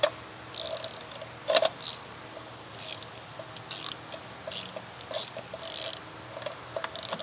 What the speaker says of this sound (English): I like to loosen them first and then use my electric ratchet to speed up the process.